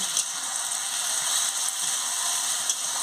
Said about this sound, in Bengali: আমি ভালো করে কষিয়ে নিচ্ছি আনাজগুলোকে, আলু, ফুলকপি।